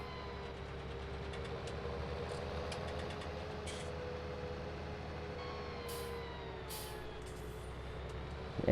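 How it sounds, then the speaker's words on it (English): A heavy truck engine in Farming Simulator 19 drones steadily with a deep, chugging engine-braking rumble as it slows, loud and close, with faint clicks near the end. "Engine braking sound is great"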